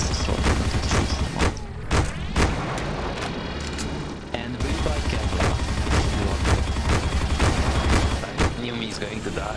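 Gunfire in Counter-Strike: Source zombie escape aimed at green generators, dense continuous shooting with booming impacts, loud and busy, with voices talking over it.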